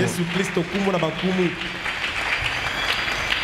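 Church congregation applauding and cheering in acclaim of Jesus Christ, a steady wash of clapping with a voice speaking over it early on, loud and continuous throughout.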